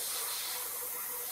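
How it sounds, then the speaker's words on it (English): An airbrush sprays spirit stain onto a wooden egg cup, giving a brief, steady, fairly quiet hiss with no voices. "I use an airbrush to"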